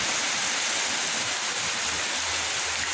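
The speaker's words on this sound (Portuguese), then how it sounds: "Está chovendo muito," Heavy rain pours in a steady, dense hiss with no breaks and no voices.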